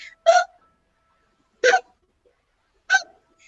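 Three short, sharp hiccups voiced for a puppet elephant, evenly spaced over a few seconds with silence between them; a human voice imitates the sound.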